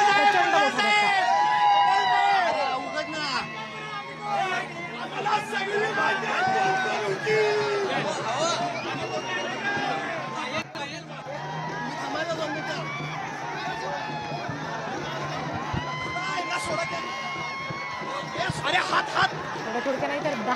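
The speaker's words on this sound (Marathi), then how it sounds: "जो जल्लोष सध्या महाडिकांकडून केला जातोय त्याची सगळे त्यांचे समर्थक कार्यकर्ते आहेत, प्रचंड गर्दी आणि जल्लोष तिथं होताना आपल्याला पाहायला मिळतोय।" Large crowd of supporters celebrating an election win with cheering and chatter, loud and busy throughout, with overlapping voices and a reporter talking over the noise.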